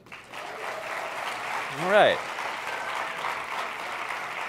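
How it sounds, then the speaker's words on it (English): A conference plenary audience gives a steady round of applause that fills the room throughout, with a voice speaking briefly over it. "So I'm going to ask you by a round of applause, are you ready to make this the ultimate plenary?"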